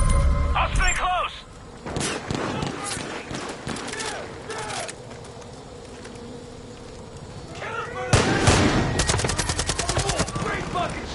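Rapid gunfire bursts and single shots from Far Cry 5 gameplay crackle throughout, with a dense volley of repeated shots near the end, while voices shout over the shooting.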